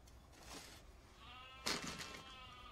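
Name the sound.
sheep bleating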